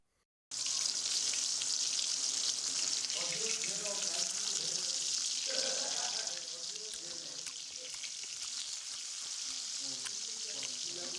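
Fish fries in a pan with a constant close, bright hiss that starts abruptly and runs steadily, easing slightly partway through, with faint household sounds underneath.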